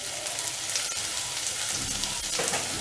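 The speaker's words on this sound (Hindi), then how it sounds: "उसके बाद फिर हम इसे स्टर कर देंगे।" Spices are stirred in a hot frying pan while making Indori poha, a close, steady sizzle with scraping stirs running throughout.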